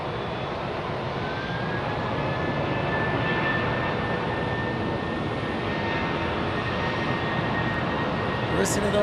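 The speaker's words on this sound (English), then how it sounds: "Listen to those old engines." Old airliner jet engines at Phoenix Sky Harbor airport, a loud, steady roar with a whining tone that fills the whole stretch without letup.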